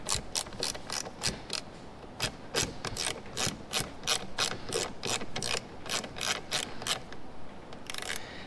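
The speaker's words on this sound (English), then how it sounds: "You can see Torx T20 and a tiny little ratchet." Rapid clicking bursts from a tiny ratchet driving a Torx T20 bit as it backs out screws on a Ferrari F430 side view mirror, loud and close, in steady repeated strokes with no talking.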